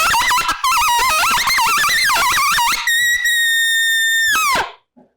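An open-reed coyote howler call blown by hand to mimic a coyote group howl: rapid warbling yips and wavering cries building into one long, steady high howl that bends down and cuts off, loud and close.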